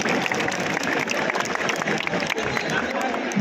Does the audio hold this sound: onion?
no